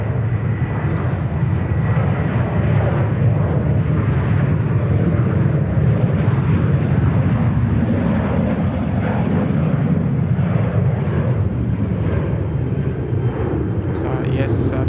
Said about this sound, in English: we might see it depart off runway right as it heads to Auckland